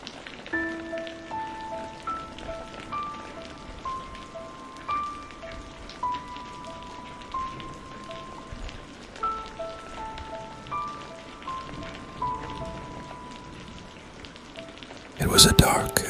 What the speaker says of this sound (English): The rain pounded against the windshield